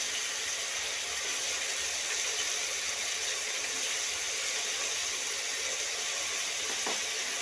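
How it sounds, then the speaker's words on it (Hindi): Fenugreek (methi) leaves frying in a pan for methi chicken give a steady, close, even sizzle and hiss throughout, with no talking. "ये मेथी मैंने डाली।"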